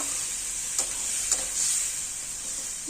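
Spice masala sizzling steadily in a pan after a splash of water, a constant bright hiss with a couple of soft stirring scrapes, close and fairly quiet.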